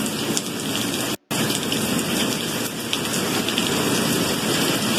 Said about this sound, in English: it's interesting that the rain's pretty loud